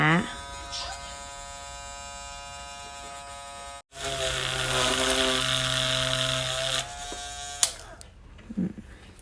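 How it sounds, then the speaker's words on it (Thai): A vendor's broken electric drill, used while making a resin snow globe shaker, gives off a steady, close electric buzz. It cuts out briefly, restarts louder and rougher, then stops, leaving a few small clicks. "แล้วก็สว่านพังๆของแม่ค้า"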